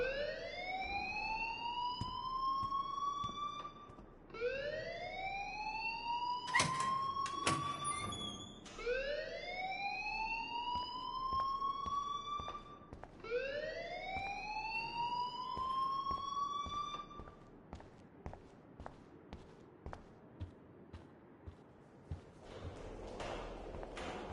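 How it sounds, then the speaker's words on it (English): A rising, wailing siren-style school alarm from the Life is Strange video game sounds repeatedly, sweeping upward four times in loud succession, then fades into a quieter stretch of scattered clicks and soft background noise. "please turn off that alarm since that's your job"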